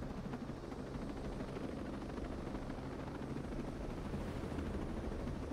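A helicopter in the shooter game Ghost Recon Breakpoint thrums steadily with a fast, continuous rotor chop and engine roar, fairly quiet and unchanging across the whole stretch, with no speech over it.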